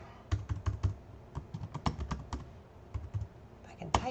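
Keys on a computer keyboard clatter in quick irregular bursts as a short email message is typed, close and fairly quiet, with brief pauses between runs of keystrokes and no talking.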